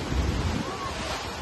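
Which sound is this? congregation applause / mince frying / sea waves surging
sea waves surging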